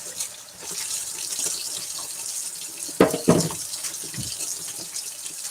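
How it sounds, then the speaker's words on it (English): Tap water runs steadily while paint is washed off hands, a close, continuous hiss with a few brief splashes and sloshes partway through. "Oh, the water's getting a little too hot."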